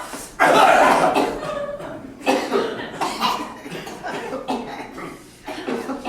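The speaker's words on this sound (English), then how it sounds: "I want her to stop coughing right now." A sick girl coughs repeatedly in harsh, wet bursts, a long fit at first followed by several shorter coughs, close and loud.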